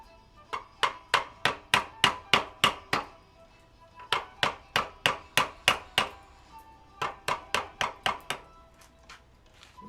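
Rhythmic bursts of sharp strikes as timber is hand-carved for Maori whakairo, rounding an arm and removing bulk wood; quick evenly spaced blows in three runs of about ten, close and crisp with short pauses.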